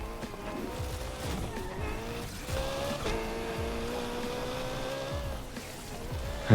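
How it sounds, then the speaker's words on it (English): Car drifting in the racing game NFS Unbound with the Unite mod, a steady engine drone with rising and falling tonal whine and sliding tire squeal throughout, loud and continuous, swelling briefly at the very end. "Of course, I still end up drifting it, because that's just the way I like to race"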